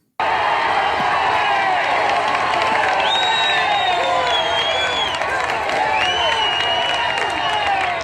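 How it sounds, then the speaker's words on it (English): A crowd gathered outside Rocky's house in Rocky II cheers and shouts continuously, a loud dense roar of voices with whoops and scattered clapping throughout. "there's a crowd outside waiting for him"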